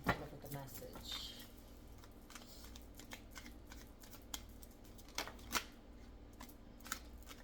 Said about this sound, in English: please allow me to interpret the cards and deliver the message